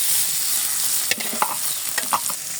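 Papaya is stir-fried in hot oil with black cumin, a loud continuous sizzle punctuated by a few close clinks and scrapes from stirring.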